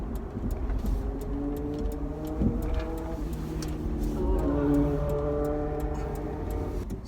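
A large car that has not been driven in a while hums with a low, steady engine drone and tonal whine, while a regular ticking like a turn signal clicks throughout, with no talking.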